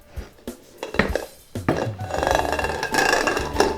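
A freshly baked chiffon cake set down onto a plate, with clinks and clatters of dishes and cutlery, a few sharp knocks followed by a busier stretch of rattling plate sounds.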